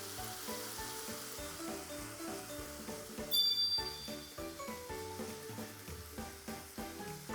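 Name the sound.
cream reducing in a pan with pork and onions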